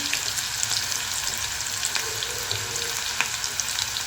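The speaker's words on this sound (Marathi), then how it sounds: "तेल गरम झालं आहे आता ह्याच्यात टाकते मी कांदा अगदी बारीक चॉप केलेला आहे" Finely chopped onion fries in hot oil in a pan, giving a steady, close sizzle with small crackling pops throughout.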